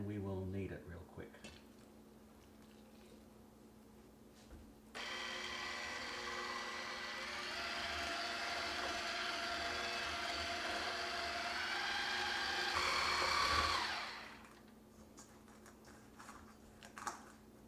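An electric hand mixer with kneading attachments works dough with boiling water added, whirring steadily for several seconds, its motor pitch straining and rising before cutting off, with clinks of a bowl around it.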